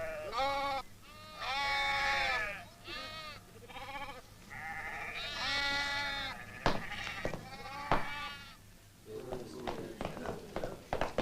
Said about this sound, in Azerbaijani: Qaytarın qoyunları.